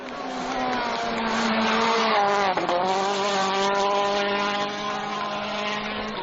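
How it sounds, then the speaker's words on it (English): A rally car racing through a gravel stage at Rally Argentina 2011, engine note rising and falling loudly through gear changes, close by, with a brief dip midway as it shifts. "Sébastien Loeb, though, is a lot happier with his run through Las Harias than he was in the first pass"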